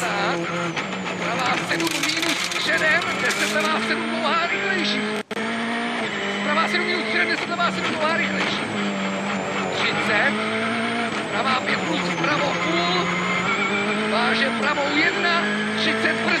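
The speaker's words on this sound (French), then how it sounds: "Nous sommes en caméra embarquée dans la Ford du Tchèque Prokop." Onboard a Ford rally car driven by Martin Prokop on a special stage of the 2013 Rallye de France in Alsace, the engine screaming loudly through rising and dropping revs and gear changes, with a commentator talking over it.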